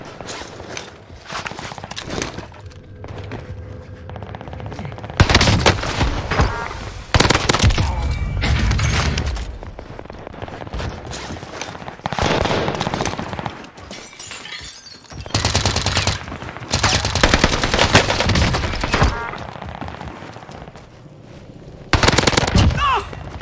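Sten submachine gun fire in Warzone, with a zero-recoil class setup. Several loud, rapid automatic bursts are separated by quieter gaps of gameplay ambience, close and punchy, with some talking between them.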